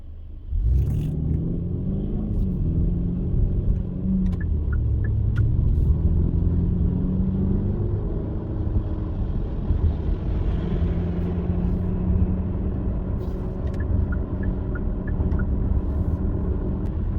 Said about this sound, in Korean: 스포츠 모드에 두면 이 액티브 사운드가 생각보다 되게 묵직한 사운드를 보여주고 있습니다